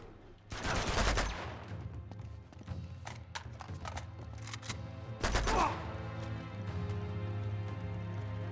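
A grenade blast and gunfire in Uncharted 2: Among Thieves, two heavy loud bursts a few seconds apart with scattered sharp shots between them, over a constant low game soundtrack hum.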